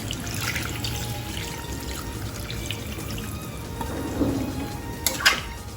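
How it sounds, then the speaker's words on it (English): Water is poured into a pan of fried bamboo-shoot chicken curry, giving a steady trickling splash that builds into a louder gush near the end. "Now I'll add water into it."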